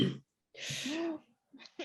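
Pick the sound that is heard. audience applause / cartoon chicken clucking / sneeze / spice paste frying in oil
sneeze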